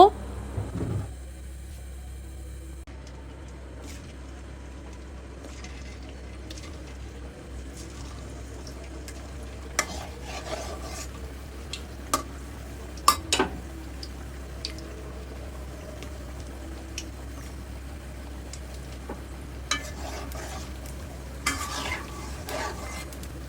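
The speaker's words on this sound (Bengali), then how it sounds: "তো এবার পিঠাগুলো ভেজে নেব।" Saaj pitha cakes fry in a pan, a steady low sizzle running under the whole stretch with scattered clinks and scrapes of stirring, while a voice speaks at intervals.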